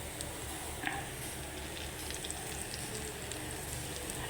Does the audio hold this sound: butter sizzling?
yes